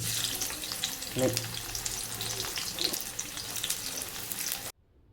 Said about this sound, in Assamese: তাতে তেলটো গৰম হৈ গ'ল, এতিয়া মই পিঁয়াজটো দি দিম।